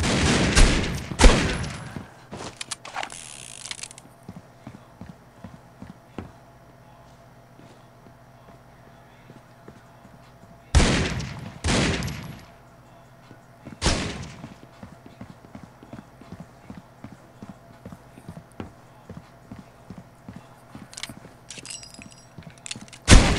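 Gunfire from a video game comes in sharp loud bursts at scattered moments, with faint rapid ticking in between.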